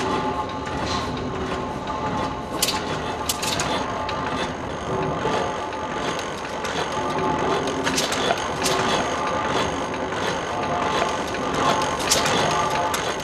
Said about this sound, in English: when the speed drops, it hits the ratchet and gives it a pulse of gas.